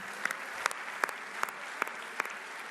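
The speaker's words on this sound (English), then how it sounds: "Can we clap hands for the people of Morocco?" Sparse audience applause follows a call to clap for the people of Morocco at the CAF Awards 2025 ceremony, with a handful of distinct, evenly spaced claps over a quiet, faint hall.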